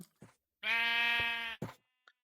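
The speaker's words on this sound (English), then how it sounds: "taking these sheep and somehow getting them into their little compartments" A Minecraft sheep gives one drawn-out nasal bleat, clear and close. Short game sounds come just before and after it.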